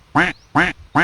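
A duck quacks three times in a steady, evenly spaced rhythm, each call loud, close and harsh, with no voices in between.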